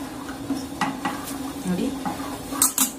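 A spoon stirs gulab jamun dough with a spoonful of ghee in a bowl, giving soft scraping and clinking taps at an uneven pace, close and fairly quiet.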